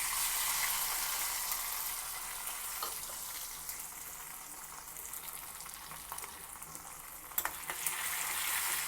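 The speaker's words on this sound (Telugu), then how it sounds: "వేసి ఆవాలు చిట్టపట్లాడే వరకు వేయించుకోవాలి" Mustard seeds, dried red chillies and crushed garlic with cumin splutter in hot oil, a soft continuous sizzle with a few sharper pops near the end, fairly quiet and with no voices.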